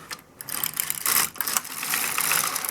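A knitting carriage slides across an LK150 knitting machine's needle bed, making a continuous mechanical whirring and clattering with a brief pause at the start, fairly close and steady, with no voices.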